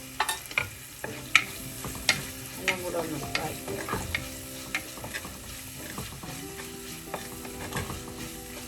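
Onions sautéing with half a teaspoon of salt in oil over a low flame, a gentle steady sizzle with a series of light spoon taps and scrapes against the pan, close up and with no voices.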